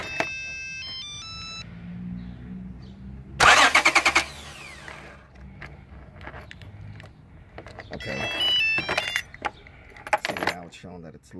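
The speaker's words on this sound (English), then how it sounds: "I'm gonna start the car. I have a remote starter." A car engine cranks and catches after being triggered by a remote starter. Beeps and jangling keys come first, then a sharp burst of cranking, then further starter bursts and clatter while a person talks nearby.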